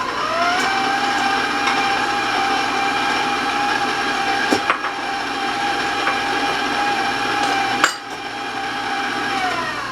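An electric mixer beats eggs with granulated sugar, its motor giving a loud, steady whirring hum with a high whine and occasional knocks from the beaters against the bowl.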